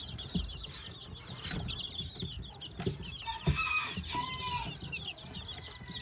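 Chickens and a brood of about thirty chicks, including silver Sebright, bantam and Polish fowl, cluck and cheep in a farmyard, with steady overlapping chirps and occasional louder clucks close by.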